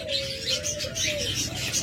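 Caged breeding pairs of lovebirds chirp and twitter nearby in a dense, continuous stream of short, high calls.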